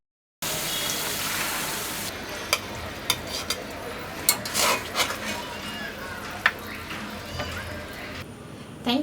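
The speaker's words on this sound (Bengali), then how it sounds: "তবুও সামান্য কিছু পানি দিচ্ছি" Water poured into chicken bhuna frying in a pan on a stovetop at medium-low heat, giving a steady broadband sizzle and hiss with a few sharp spurts and pops rising through the continuous frying noise.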